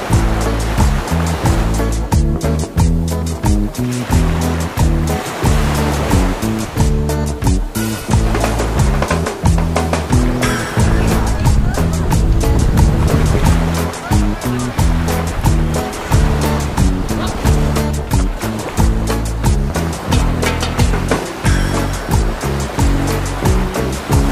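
Sea waves rolling and building at a beach, a loud continuous roar of surf with steady churning water and no voices.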